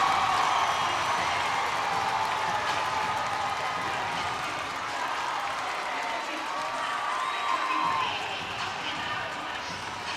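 Hockey arena crowd roaring and cheering during a fight between cross-state rivals, a loud, dense, continuous wash of voices and applause that swells slightly near the end.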